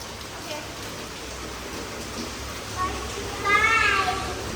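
Steady rain hisses evenly throughout, with faint voices and a short whining, meow-like call rising near the end.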